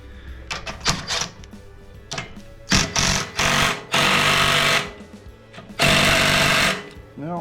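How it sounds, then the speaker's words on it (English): Bolts come off a John Deere 826 snowblower with a Tecumseh engine, probably under a power tool, heard as loud mechanical bursts that begin as short rapid rattles and then become sustained one-second runs, with someone talking between them. "let's take off a few more bolts here"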